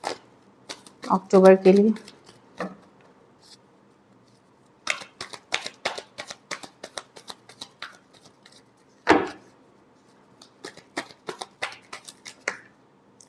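Tarot cards are shuffled in quick bursts of crisp riffling and slapping clicks, with someone talking between the shuffles.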